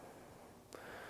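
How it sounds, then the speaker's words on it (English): A sharp, brief intake of breath during a standing yoga pose, a quick audible inhale partway through an otherwise quiet moment, followed by a soft sustained airy hiss. "Big inhale."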